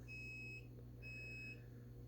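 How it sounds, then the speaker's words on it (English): A deep fryer gives two steady electronic beeps in quick succession, each about half a second long, faint over a low background hum. "That beep beep was my deep fryer"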